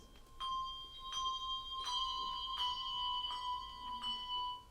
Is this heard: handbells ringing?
yes